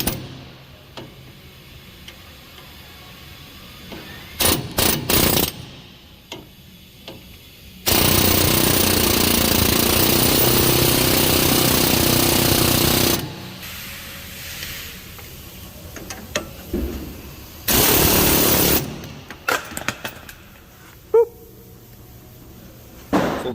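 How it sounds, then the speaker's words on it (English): A Mac LT1800 air hammer with a ball joint type chisel kit knocks out the steering stabilizer on a Ford Super Duty truck. It fires in two long, loud, continuous bursts, with shorter sharp knocks and clatter between them. "So that's the LT1800 at work with a decent air hammer."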